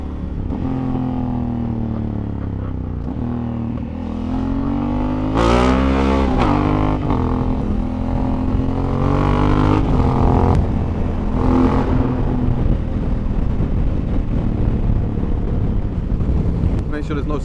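Several motorcycles, including an Africa Twin, an MT-10 and a KTM 790 Adventure, ride through London traffic, with engines revving and changing pitch over steady wind noise and rumble, and a rider talking now and then.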